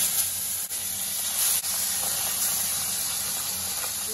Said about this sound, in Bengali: এবার আমি বাকি মাছগুলিকেও ভেজে নেব।